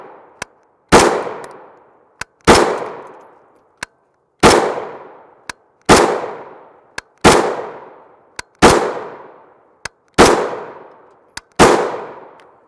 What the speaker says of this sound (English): this is our Springfield Hellion or Croatian VHS-2 rifle. It is a bullpup.